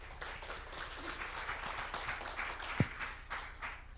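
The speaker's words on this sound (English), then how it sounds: "So a round of applause for our judges today." An audience applauds the judges at the Taiwan Startup World Cup final pitch event, a steady wash of many hands clapping at moderate distance that holds for the full four seconds, with one sharper thump partway through.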